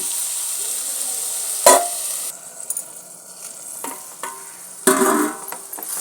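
Prawn curry with salt stirred in a pan over a steady sizzle, with a few sharp spoon scrapes and clanks against the metal, loud and close, with no talking.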